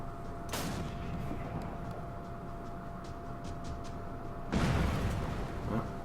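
Heavy weapon fire at Taliban in the game Afghanistan 11, two deep booming blasts, one early and a louder one near the end, over a low steady hum.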